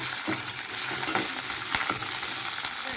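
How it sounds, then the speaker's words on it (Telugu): Green chilies sizzle and fry in hot oil, a steady close crackling hiss with occasional stirring scrapes throughout, no voices. "ఇలా వేయించుకోవాలండి కొద్దిసేపు నూనెలో."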